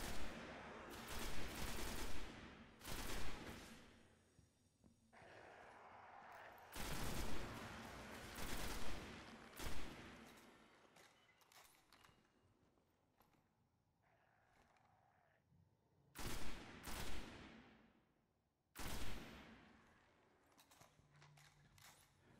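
Gunfire in the video game Destiny, during a Moon mission, arrives in several separated volleys of sharp reports with quieter gaps between them, fairly faint overall.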